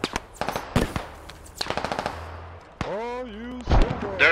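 An MG emplacement in the Squad video game fires several rapid bursts of loud machine gun fire, close and sharp with brief pauses between bursts, followed by ringing tones and a deep boom near the end.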